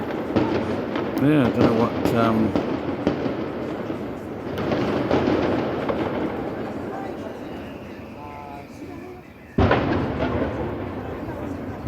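Fireworks exploding at night somewhere in Spain or France, a series of distant thumping bursts with crackles, one sharper bang near the end, while people talk over them.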